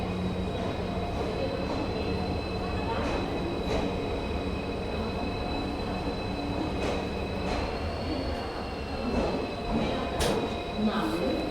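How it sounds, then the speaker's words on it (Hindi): The Jodhpur-Howrah Express rolls into platform 4 at Jodhpur Junction, its wheels rumbling steadily and thin metallic squeals ringing over the clatter of the carriages, heard from on board at close range. "Jodhpur Howrah express 4 number platform पे अराइवल हो रहा है हमारा"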